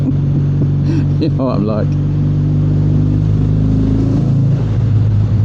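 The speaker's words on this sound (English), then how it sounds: "it's always nice just to rev your bike under a bridge, isn't it?" A Kawasaki W650 retro motorcycle revving under a bridge, its engine a loud, steady rumble that swells and echoes throughout, with someone briefly talking over it early on.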